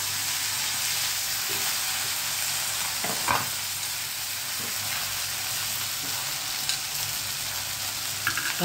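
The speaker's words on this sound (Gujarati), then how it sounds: "આ લસણ નાખ્યું વઘારમાં" Garlic sizzles in hot oil as a tempering with mustard seeds and asafoetida, a dense, steady frying crackle with a few louder pops, close and continuous with no talk.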